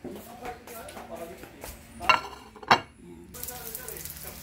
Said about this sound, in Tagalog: So, ngayon, magpiprito tayo.